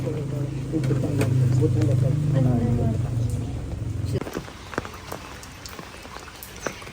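Rain falls in a village as a dense patter of drops, with a droning voice-like sound over it for the first few seconds before the rain continues alone.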